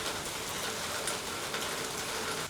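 Steady rain falls continuously, a dense even hiss of drops pattering on a surface, close and constant throughout with no voices.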